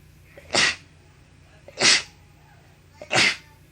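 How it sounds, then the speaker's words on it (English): Three sharp sneezes burst out at even intervals, each loud, breathy and close, with quiet in between. "Sneeze attack."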